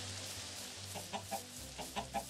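Several short chicken clucks in Minecraft in a loose, uneven rhythm over a steady low hum, fairly faint, with no talking.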